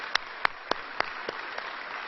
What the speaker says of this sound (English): So another round of applause for the Governor.